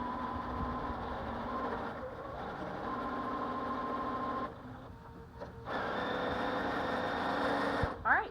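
A sewing machine stitches quilt squares for flying geese along a marked line, running as a steady, fairly loud mechanical whir that dips briefly midway and then resumes.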